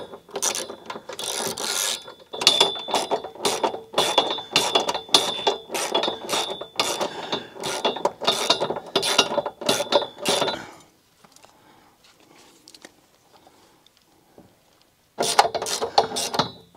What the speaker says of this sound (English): we're not going to be able to get to that last one with the ratchet at all